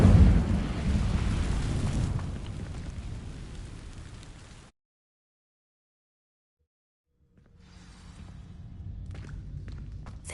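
The Incendio fire spell igniting dry vines in Hogwarts Legacy, a loud roaring rush of flame that fades over a few seconds into silence before quieter ambient sound returns.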